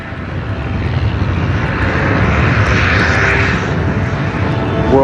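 A World War I propeller aircraft engine drones steadily and loudly throughout, a continuous broadband roar with no talk over it.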